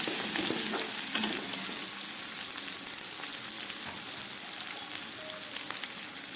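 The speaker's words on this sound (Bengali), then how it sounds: "এবার দিয়ে দিচ্ছি একটু লঙ্কার গুঁড়ো।" Masala frying in a pan as red chili powder goes in, with a steady, close, hissing sizzle and light stirring scrapes throughout.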